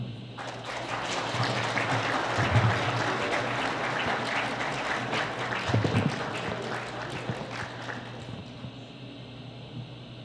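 Sustained applause from an audience at the inauguration of a Haitian foundation, a dense, steady wash of clapping running the whole stretch with a couple of louder swells.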